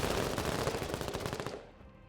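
Rapid automatic gunfire from a shooter video game rattles in a dense, loud burst that fades out near the end, with no talk.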